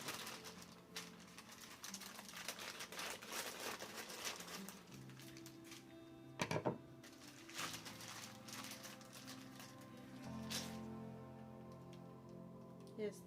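Plastic packaging around a preowned anime figure crinkles and crackles in irregular bursts up close, with sharp rustling spikes and a few brief tonal scrapes, fairly quiet overall.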